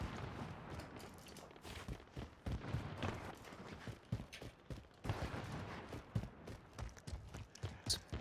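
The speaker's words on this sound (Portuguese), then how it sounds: "Tem tiro pra cá." Scattered bursts of gunfire in Call of Duty: Warzone crackle at low volume amid a busy, clattering background, with sharp shots repeating irregularly throughout.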